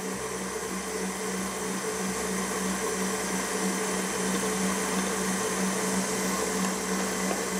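An electric mixer at high speed beats egg whites with sugar, giving a steady, close, whirring motor drone that holds unbroken throughout with no talking.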